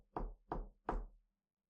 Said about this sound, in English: Frank knocks on the door,